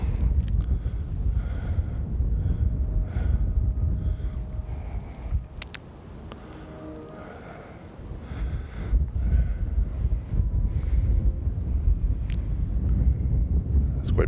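Strong wind buffets the microphone on a mountain summit above 10,000 feet overlooking the Albuquerque valley, a steady low roar that dips briefly mid-way, with someone speaking over it.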